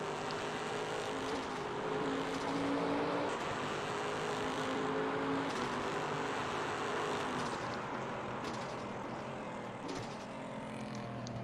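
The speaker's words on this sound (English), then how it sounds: "Hopefully you can hear me over the engine noise as these two guys battle it out." Race car engines drone steadily during a NARR race at Mid Ohio, a continuous distant roar that swells and fades slightly as cars pass on track.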